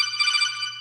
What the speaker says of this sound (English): before I forget and this phone goes off, I'm going to turn it off.